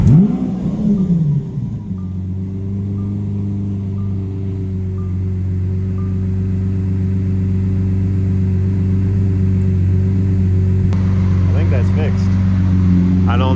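A Lamborghini, its transmission under repair, runs on a test drive, its engine producing a steady, loud mid-pitched drone that rises slightly over time, with a brief rev at the start and faint talk near the end.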